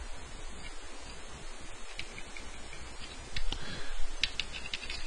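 Typing on a computer keyboard, with a series of light, uneven key clicks and taps heard close up over a steady background hiss, becoming slightly busier toward the end.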